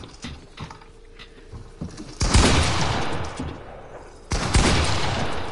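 Shotgun blasts in a multiplayer shooter video game, two loud booming shots a couple of seconds apart, each trailing off in a rumbling decay over faint clicking and background noise.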